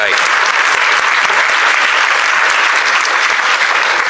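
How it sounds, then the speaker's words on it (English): Sustained audience applause for a panel at a League forum on government downsizing, a steady dense clapping wash at full loudness from start to end with no pauses. "how about a hand of applause for our panel here today?"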